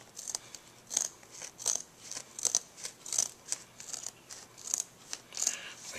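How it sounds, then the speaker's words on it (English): Regular household scissors snip through the fabric of a metal band shirt being modified, a steady series of short crisp cuts, close and fairly quiet. "These are just regular old household scissors."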